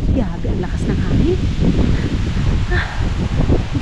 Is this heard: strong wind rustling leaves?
yes